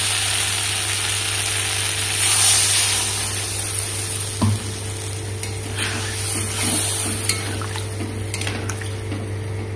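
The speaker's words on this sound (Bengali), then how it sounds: "এবার আমি জল দিয়ে দেবো" Water added to a pan of simmering egg and taro curry raises a steady hiss and bubbling sizzle, with a few clinks of a utensil and a brief knock against the pan.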